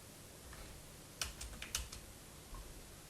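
Entering data on a computer keyboard: a short cluster of soft, close key taps over a faint steady room hum, with no talk.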